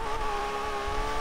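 Lamborghini racing in Forza Horizon 3 gives a steady, high engine whine with a constant tone at speed, fairly faint and uninterrupted, with no voices.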